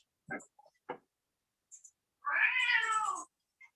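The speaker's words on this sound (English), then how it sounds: "Would somebody stop stepping on that poor cat?" Cat meowing during a remote Senate Finance meeting, a long drawn-out meow after a few short bleats and clicks, close and clear with no talking.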